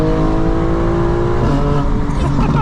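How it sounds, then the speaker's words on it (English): A 900 hp 2025 BMW M4 Competition xDrive engine revs loudly, its exhaust roaring and rising in pitch before dropping back, close and continuous. "But enjoy the exhaust and the RPMs."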